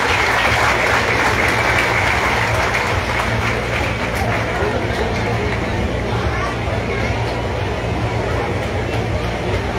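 A large crowd at a bass fishing tournament awards ceremony in Catazajá, Chiapas, applauds steadily and loudly, dense clapping filling the space with some murmur of voices mixed in.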